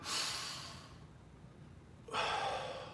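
Deep breaths during a martial arts conditioning exercise: a long, loud breath in, a pause of quiet, then a strong rushing breath out, close to the mic with no talking.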